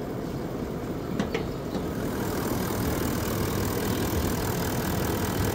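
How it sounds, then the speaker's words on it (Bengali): A 2019 Toyota Land Cruiser Sahara with a 4500 cc V8 diesel engine idles in a steady, low, even rumble heard up close, with a few faint clicks early on. "diesel engine"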